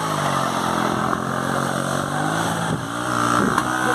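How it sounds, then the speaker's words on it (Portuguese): A motorcycle idles steadily and loudly up close on a trail, a continuous rumbling engine note that stays even with slight wavering throughout. "Deixa a moto apagar aí não"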